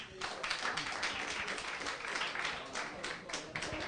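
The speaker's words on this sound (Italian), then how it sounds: "accogliamola ancora una volta con un applauso" Audience applause welcoming a singer at the PAB festival, dense steady clapping from a crowd lasting the whole stretch without a break.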